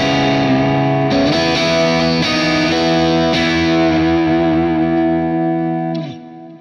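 An electric guitar runs through a compressor effect on a Quad Cortex, playing a sustained distorted chord that rings out evenly for several seconds and then cuts off.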